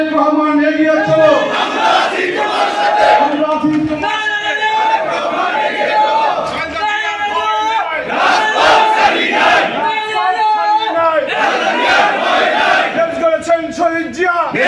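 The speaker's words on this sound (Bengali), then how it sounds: "দুই হাত তুলে স্লোগান দেন, তারেক রহমান এগিয়ে চলো" A political rally crowd of youth party supporters chants slogans in loud unison, voices rising and falling in repeated rhythmic bursts, dense and close throughout with shouted lead calls over massed responses.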